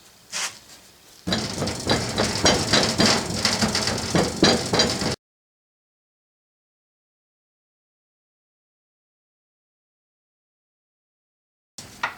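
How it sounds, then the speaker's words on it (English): A sand rammer packs foundry sand into a casting mold in a steady run of dull, rapid thumps and gritty impacts lasting a few seconds, then silence. "I like to start packing it before the mold is entirely full."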